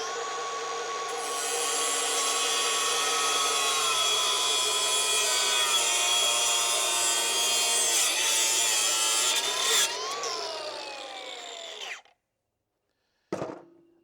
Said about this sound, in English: now I'll just finish it off here with the grinder